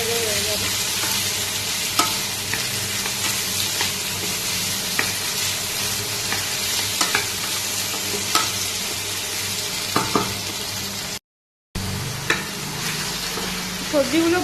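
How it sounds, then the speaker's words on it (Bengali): Mixed vegetables are stir-fried in a pan, giving a continuous sizzle broken by repeated scraping and stirring clatters and a brief cut near the end, heard close and mostly without talk. "সবজিগুলো দিয়ে আস্তে আস্তে এবার ভাজাভাজি করে নিচ্ছি"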